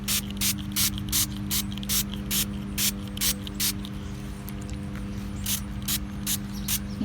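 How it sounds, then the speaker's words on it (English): Repeated bursts of a spray bottle wetting paper so the colours bleed, short hissing sprays in quick rhythmic pumps, close up over a low steady hum. "we are going to spray the whole entire thing. Make sure you get it really wet."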